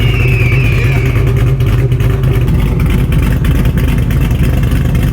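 A Shelby GT350 engine fitted with aftermarket cams runs loud and close in a steady, deep, choppy idle rumble without clear revs.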